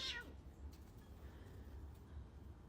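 A single short cat meow right at the start, fairly faint, followed by quiet room noise with no further calls.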